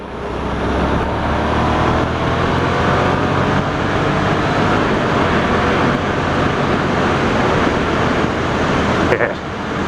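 A Yamaha MT-07 motorcycle held in fourth gear at speed, its engine a steady loud drone blended with heavy wind rush through the whole stretch, ending in a brief bump near the close.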